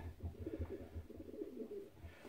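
Domestic pigeons cooing softly in a loft, a low repeated throaty rhythm of several coos, faint and alone.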